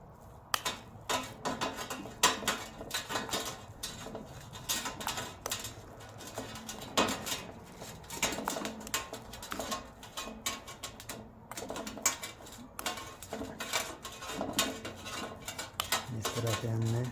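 Spoon clinking and scraping against a bowl while an onion stuffing mixture with salt and cumin is stirred, a busy run of sharp metallic taps and rattles lasting throughout, close and fairly loud.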